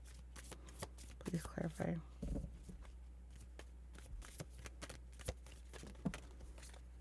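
A deck of tarot cards is shuffled by hand in quick, soft, papery riffles and taps, close by, with a person talking over parts of it.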